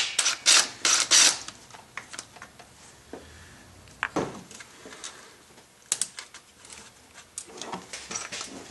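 A wrench works loose a stud on a car's thermostat housing, giving close clicking and ratcheting taps in uneven clusters, loud at first and then lighter and scattered.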